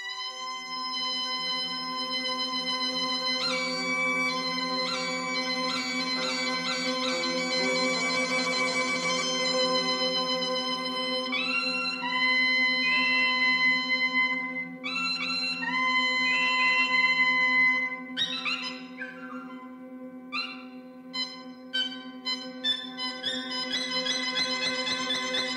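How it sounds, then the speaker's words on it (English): A suona, the loud Chinese double-reed wind instrument used at funerals and in Beijing opera, plays a bright, piercing melody with quick ornamented runs over a sustained drone-like accompaniment, continuous and moderately loud throughout. "what I think he's talking about is the modern instrument called the suona"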